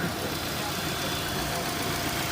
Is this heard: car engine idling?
yes